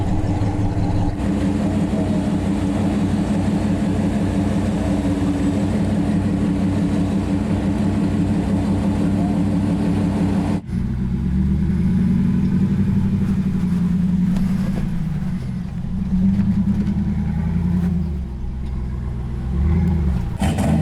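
A high-horsepower off-road car engine roars continuously at high revs, then drops and surges again, loud and close throughout.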